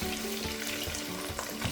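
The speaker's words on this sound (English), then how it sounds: "My onion has started frying" Onion sizzles in hot oil in a pan for a Ghanaian garden egg stew, a steady, close, crackling hiss with no talk.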